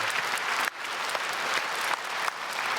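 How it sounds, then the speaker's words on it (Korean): A church congregation at a Sunday worship service claps for worship volunteers, a brief burst of many hands applauding with a few short dips in the middle. "우리 수고하시는 예배위원들에게도 한번 크게 박수하겠습니다."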